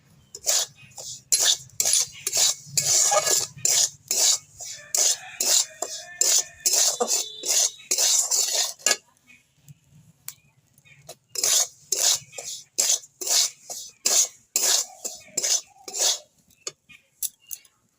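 A spoon mixes roasted cumin powder in a bowl for homemade black salt, scraping in quick rhythmic strokes. A run of scrapes gives way to a short pause, then a second run, with no talk.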